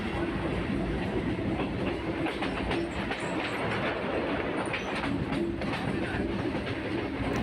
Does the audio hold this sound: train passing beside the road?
yes